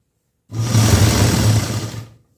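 A sewing machine stitches blouse lining fabric in one continuous, close, loud run of about a second and a half, starting and stopping cleanly.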